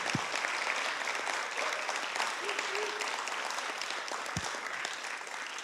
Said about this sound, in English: just to give James a resounding round of applause